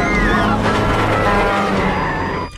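A car races at full speed in a film scene, a loud, sustained engine roar with rising whining tones heard close, with a voice speaking over it before the sound drops away abruptly at the end.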